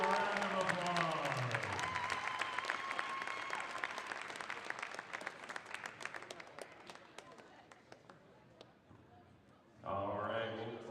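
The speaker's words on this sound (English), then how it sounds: "Let's give them all one more big round of applause" A crowd at a college volleyball match in a sports center breaks into sustained applause that swells then gradually thins out, ending as an announcer's voice returns.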